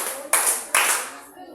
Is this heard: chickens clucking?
no